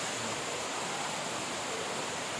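Encanto Falls, a cascade with three drops, pours as a dense, constant hiss of falling water. The roar is unbroken and steady, with no voices over it.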